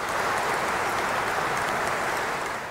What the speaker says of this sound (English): It brought applause